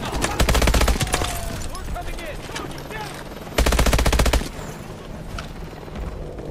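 Bursts of rapid automatic gunfire in the Call of Duty: Advanced Warfare campaign mission "Induction", loud and close, with two heavy fusillades separated by a stretch of lighter scattered shots and game ambience.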